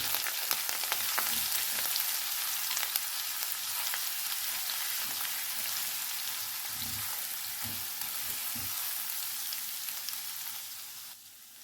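Ginger and garlic paste frying gently on a low flame, a soft, even sizzle with a few faint stirring taps, fairly quiet and without talk.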